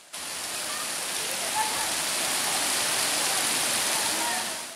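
Tirta Rimba waterfall in a protected forest in Baubau, Buton, pours in a dense, even roar of falling water that stays constant and close throughout.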